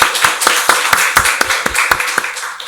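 Congregation in a church clapping in rhythm, sharp hand claps landing at an even beat with a roomy wash of many hands behind them, loud and close throughout.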